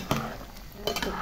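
Chicken with green chili sambal is stirred in a pan, giving two short scraping bursts over a faint steady sizzle, with brief clinks of a utensil against the pan.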